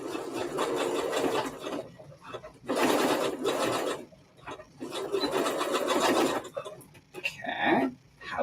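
A sewing machine pushes through thick strap material, giving loud, steady mechanical runs that stop and restart in several bursts with brief pauses.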